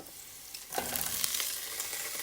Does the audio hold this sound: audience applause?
no